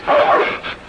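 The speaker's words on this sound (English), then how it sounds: "That's a dog." A dog gives a short, sharp bark, then a second, softer yip close by, in a Western-movie setting, with no talk over it.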